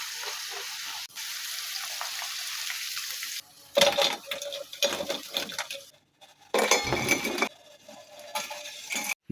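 Crispy homemade french fries handled in a kitchen, with scraping, rustling clatter and crunchy bursts in irregular clusters over a faint background hiss, close and fairly quiet.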